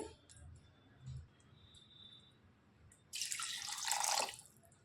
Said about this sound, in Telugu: ఒక రెండు కప్పులు వాటర్ వేసుకోవాలి